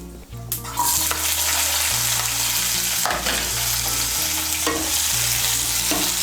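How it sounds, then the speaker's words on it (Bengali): Chopped onions fry in hot oil for a masala bhindi, a steady loud sizzle with stirring scrapes throughout, no talk. "পেঁয়াজ কুচিটাকে লাল করে ভেজে নেব।"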